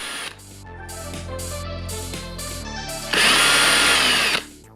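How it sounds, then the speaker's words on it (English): Power drill boring out holes in a plastic lightsaber part, a steady whirring drone that rises into a louder, higher-pitched grind for the final second or so before stopping. "we can drill out those holes just a little bit more, get rid of the extra plastic"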